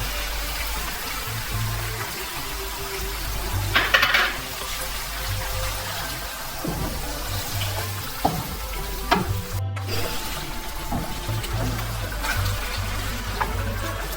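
Ketchup and chilli garlic sauce poured into a hot frying pan while cooking chicken 65, giving a steady sizzle and bubbling with scattered stirring clatters and soft knocks throughout, no talking.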